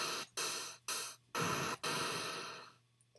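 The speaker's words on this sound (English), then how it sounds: "The next sound is the 8-bit crash, which is a little bit like a cymbal." Four bursts of 8-bit crash cymbal noise built with the SFXR synth in LMMS, each a bright hissy chiptune splash, the last one decaying longer into silence.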